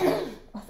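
A woman clears her throat with a short cough burst, close and fairly loud, during a beauty chat about makeup, followed by a softer trailing vocal sound.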